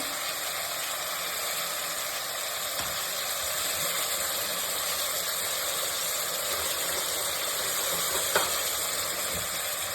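Ingredients for vangi bath fry in hot oil, giving a steady, even sizzle that continues unbroken, with a faint clink or scrape near the end.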